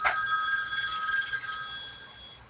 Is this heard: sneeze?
no